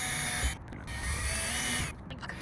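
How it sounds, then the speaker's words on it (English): A drill bores pilot holes into a roof fan mounting bracket in a van build. It gives a steady, close whirring grind that stops briefly twice. "I'm just gonna drill some pilot holes through all of the holes here into the mounting bracket"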